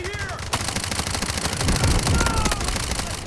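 Rapid automatic gunfire rattles nonstop in the shooter game Delta Force, loud and dense, with bursts overlapping throughout and no talk over it.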